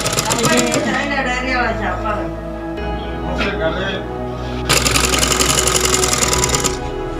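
A sewing machine stitches a hem on a wide-leg trouser with a steady mechanical rattle. Someone talks over the first part, and the machine runs on alone and louder near the end.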